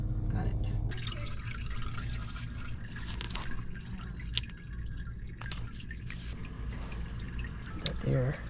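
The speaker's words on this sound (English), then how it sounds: "Oh, and splashing all around." Transmission fluid drips and splashes from a Scion xB during a transmission filter change, a steady patter of drops under an ongoing background hum, with a person talking intermittently nearby.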